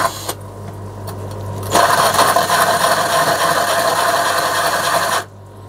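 A drill bit grinds through aquarium glass in a harsh, steady rasp for several seconds, then cuts off abruptly, with a quieter mechanical hum before it starts.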